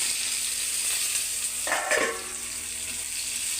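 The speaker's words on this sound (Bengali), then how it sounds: "অ্যাড করে তো মশলা আমি ভাজতে থাকবো।" Spices fry in a pan with a continuous bright sizzle, close and fairly loud. A brief stirring scrape and a spitting burst rise near the middle before the steady hiss returns.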